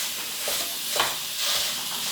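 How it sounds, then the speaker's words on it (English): Sausage sizzling and frying in a pan while a wooden spoon breaks it up, a steady close hiss with a few soft stirring scrapes and no talk. "the first thing we are going to do is cook our sausage"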